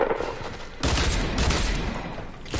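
Video game gunfire from dual pistols and a shotgun crackles in a dense, continuous volley, loud and close, with a sharper burst partway through and no talk.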